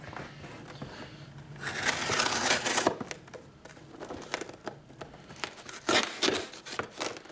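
Cutting open a FedEx cardboard box: a sustained scraping, tearing rasp of blade through cardboard runs for a couple of seconds, followed by scattered crinkles, rustles and sharp crackles of handling nearby.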